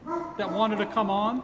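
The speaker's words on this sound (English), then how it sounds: "That's my dog getting on the show." A dog barks and yips briefly beneath ongoing conversation, with the animal sounding close and the voices staying on top.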